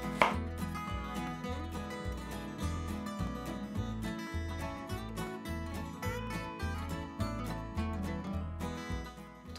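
A knife chops aubergines into rounds on a board, steady rapid thuds at an even pace with a faint musical background underneath and no talking.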